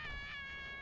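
A cat in a video game gives a single short, clear meow, close and alone.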